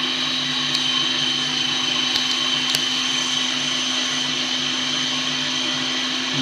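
Food processor blending butter into fine breadcrumbs, a steady, loud motor whir with a constant hum and faint rattling, running without pause and with no talking.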